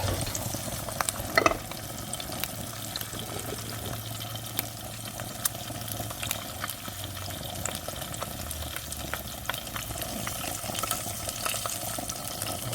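Steady, gentle sizzling of eggs frying in a pan with butter, a continuous crackle with no talking.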